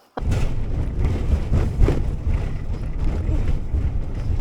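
Motorhome rattling and rumbling while being driven, a steady loud mix of road roar and cabin vibration with scattered rattles throughout, no talk.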